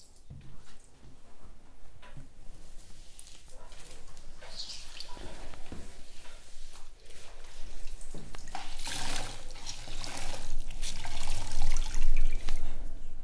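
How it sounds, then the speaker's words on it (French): Clean water rinsing a bathroom floor during a renovation, a continuous splashing and running wash that grows louder and fuller toward the end, with scattered drips and knocks. "Et à présent, je rince bien le sol avec de l'eau claire."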